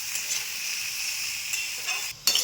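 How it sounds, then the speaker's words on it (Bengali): Potatoes frying with a spoon of turmeric powder in a pan, a steady close hiss and sizzle running throughout, briefly dipping and then flaring again near the end. "একটু আলুটা ভেজে নিয়ে তারপর কপিটা দেবো।"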